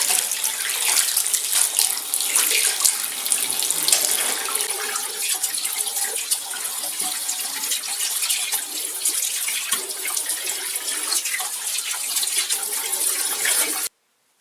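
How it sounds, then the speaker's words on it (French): Cold water pours from a tap as a face is rinsed, making a continuous close splashing rush with small irregular spatters that stops abruptly at the end. "Maintenant, je vais rincer mon visage avec de l'eau froide."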